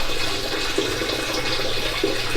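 Steady rush of running water from a shower in a bathroom in a video game, a continuous hiss at even loudness throughout, with no talking.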